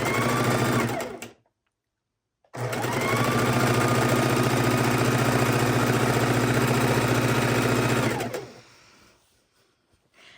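A sewing machine stitches a quilt border in a fast, even mechanical whir, stopping briefly into silence, then running long and steady again before slowing to a halt.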